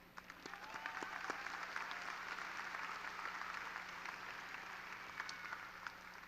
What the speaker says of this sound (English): This applause is much deserved